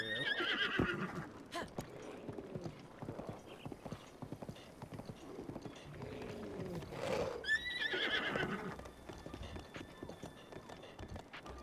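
A horse whinnies loudly a couple of times amid rapid clip-clop hoofbeats in The Legend of Zelda: Breath of the Wild, with game ambience underneath and no talking.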